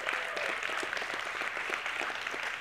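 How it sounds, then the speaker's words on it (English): Audience applause at a church youth service, thanking a team for their Christmas decorations: dense, continuous clapping from many hands, even and full throughout the short stretch. "would you guys give a round of applause to Aaron and his team for the great job they"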